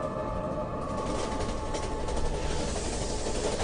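A train at a railway station gives off a continuous loud rumble and hiss, with faint rhythmic clatter building slightly, steady throughout and close by.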